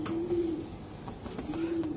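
A racing pigeon bred from an Olympic champion gives two low, drawn-out coos close at hand, separated by a quiet gap over faint background noise.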